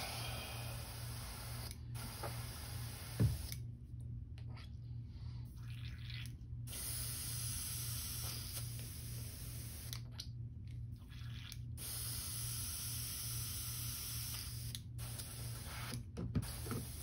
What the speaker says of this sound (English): Clean that out of my airbrush.